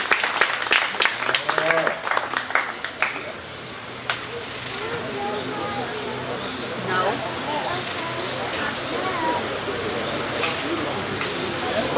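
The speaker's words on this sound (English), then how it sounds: "Let's give her a nice round of applause" An audience at a county fair 4-H cattle show claps for a young exhibitor, a burst of scattered hand claps at first that fades into murmuring crowd noise and talk.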